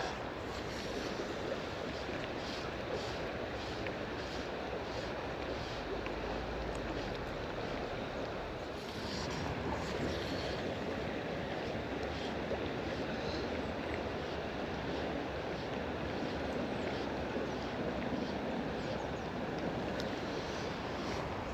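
Cold wind blows steadily beside the River Doon in Scotland near season's end, a broad, constant rushing with gusts buffeting the microphone, mixed with flowing water, no voices.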